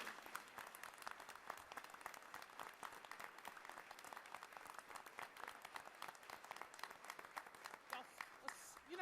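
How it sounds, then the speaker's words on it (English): Faint, distant applause from an audience at a school board meeting, continuous clapping for students that holds evenly from start to finish. "let's give them a round of applause"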